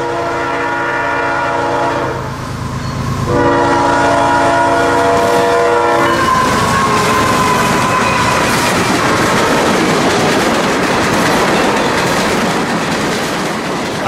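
A CSX freight train led by two locomotives, CSX Spirit units 1776 Armed Forces and 3194 Law Enforcement, passes on a curve near a bridge at Waldo. A loud multi-tone horn blares in two blasts, followed by a heavy, close rumble and rail clatter.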